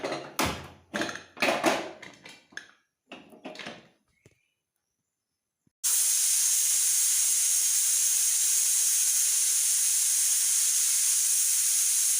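A pressure cooker with cut jackfruit in water lets out a loud, sharp, sustained steam whistle that bursts in suddenly after a few clinks and taps, then hisses steadily and alone until the end.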